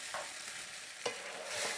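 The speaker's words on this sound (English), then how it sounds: "So just stir that up." Beef stroganoff is stirred in a hot pan, a soft sizzle with a few scraping strokes of the utensil, fairly quiet and close, with no voices.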